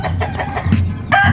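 A gamecock rooster in a small backyard coop lets out brief clucking and crowing calls in a quick burst, close and fairly loud, with other fowl sounds around it.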